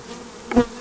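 Bees around a top bar hive give a soft steady hum, and one bee sweeps loudly past close by for a brief moment near the end.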